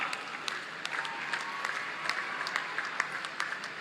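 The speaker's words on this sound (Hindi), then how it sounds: "तालियों की गड़गड़ाहट से स्वागत कीजिए भारतीय हॉकी की महारानी" An audience at a Lucknow ceremony honoring Tokyo Olympic athletes applauds to welcome Indian hockey captain Rani Rampal, giving sustained clapping with sharp individual claps popping out above a dense wash.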